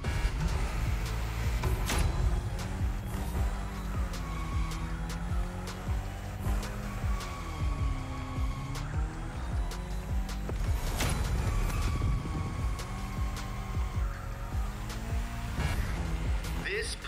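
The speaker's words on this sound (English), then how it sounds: "Go drift, my friend. Go drift to your heart's content." A car drifting in The Crew Motorfest racing game, its engine roaring and rising and falling in pitch through long slides, loud and continuous, with a voice speaking over it.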